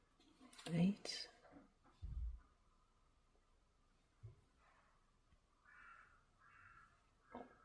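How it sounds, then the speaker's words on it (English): A crow caws a few times outside, faint and distant, between quiet murmured speech indoors. "Well, there's a crow outside,"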